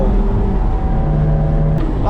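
A 745 hp BMW M5 driven hard on a race circuit, its engine droning loud and steady from inside the car, with a rising whine near the end.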